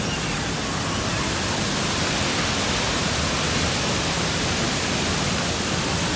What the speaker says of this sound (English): I can see the water coming off the deck over there, so you almost underneath the falls